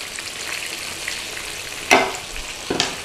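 Fish for a Thai stir-fry with celery fries in a pan with a soft, even sizzle, broken by two sharper bursts of spatter or stirring near the end.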